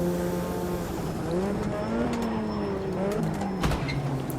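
A race car in the Automobilista 2 game locking its front brakes: a steady engine drone shifting in pitch, with a tire squeal rising under braking and a brief scrub near the end.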